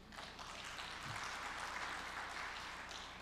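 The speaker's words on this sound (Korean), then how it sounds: "박수 부탁드립니다." Faint, brief applause from a forum audience at a lecture on Korean peninsula policy, a soft, distant patter of clapping that holds steady for a few seconds.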